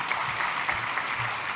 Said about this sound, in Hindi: हम सब तालियां बजाकर उनका दिल से स्वागत करेंगे